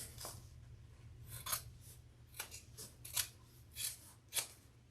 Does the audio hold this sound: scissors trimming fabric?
yes